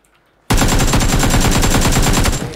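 Automatic gunfire in a competitive video game match, a sudden loud continuous burst of rapid shots lasting about two seconds, close and dominant, with no talking over it.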